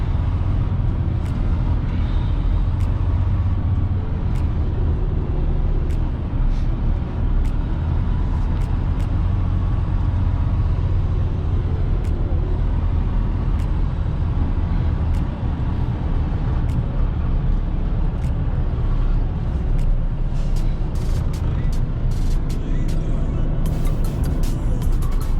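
A semi truck backs up to a loading dock, its engine a steady, loud, low rumble that persists throughout, with occasional faint higher clicks and hisses near the end.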